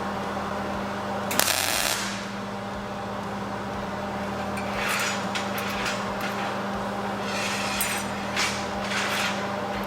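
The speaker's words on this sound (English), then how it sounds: "my welder's a little hot, so I was welding thicker material" Thick metal tack welded with a slightly hot welder in a fabrication shop: a steady electric buzz runs throughout, with a sharp crackling burst near the start and further sizzling bursts later, close and fairly loud with no talk.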